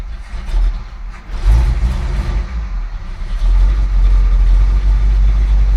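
A factory big-block 402 V8 in a 1970 Chevrolet C20 truck rumbles at a low, heavy idle close by, with a brief rise in revs before settling into a deep, steady throb.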